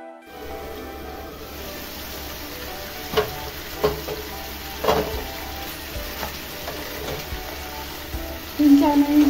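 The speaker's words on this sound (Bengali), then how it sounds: "মাংসটা আমি 3-4 মিনিট মতন ভেজে নেব।" Chicken pieces for Bihari chicken fry in a pan with a low, steady sizzle, broken by several sharp clinks and scrapes of stirring, and a louder burst of activity near the end.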